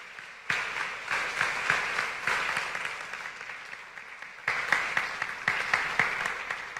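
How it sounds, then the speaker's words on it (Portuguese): A church congregation bursts into applause during a worship service sermon, dense clapping that starts abruptly, swells, dips and picks up again over several seconds. "dê um aplauso por esta palavra"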